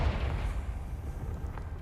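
A Confringo blasting spell going off in Hogwarts Legacy, a deep rumbling boom with a heavy low-end burst that rolls on and slowly fades, with no voices.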